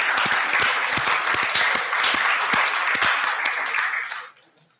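A church congregation at a Lutheran Sunday service applauds students just finished with school, a loud, dense burst of many hands clapping that holds steady for about four seconds, then quickly fades to quiet.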